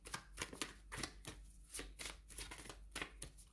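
Oracle cards being shuffled in repeated riffling bursts, close and fairly quiet, with no voice over them.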